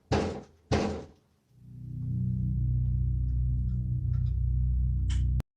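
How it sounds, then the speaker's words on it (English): Two heavy thuds against the lower part of a front door at night, sharp and close, followed by a steady low hum until a final click. "It sounds like kicking. It sounds like, again, middle to lower part of the door"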